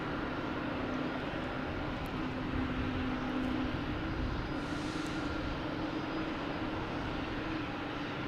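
A jet airliner's engine drones steadily at Boston Logan Airport, a loud continuous roar with a low hum that holds without a break from start to finish.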